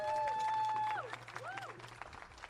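An audience at a San Francisco street renaming ceremony applauds a District 2 supervisor, a brief burst of clapping and crowd noise that follows a tonal sweep and then thins out.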